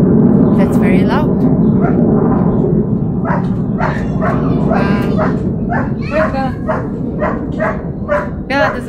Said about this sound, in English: that big dog that keeps on barking